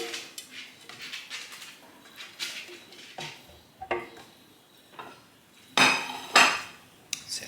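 Fried rice is tipped onto a plate with a utensil: a series of close clinks and scrapes of metal on crockery, irregular and fairly loud, ending in a couple of heavier clatters, with no voices.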